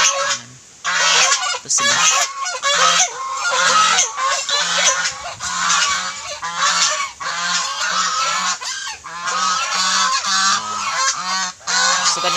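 Farm geese and ducks honk loudly and repeatedly close by at feeding time in a rural province, a dense overlapping chorus with short pauses, with a person speaking briefly among them.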